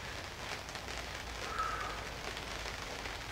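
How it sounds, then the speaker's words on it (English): Rain falls outside as a steady soft hiss of patter on surfaces, continuous and moderately faint, with no talking over it. "Starting to rain outside."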